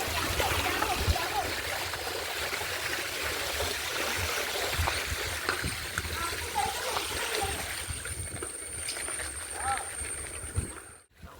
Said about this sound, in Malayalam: നമ്മള് വെള്ളത്തിൽ കൂടെയൊക്കെയാണ് പോകുന്നത്.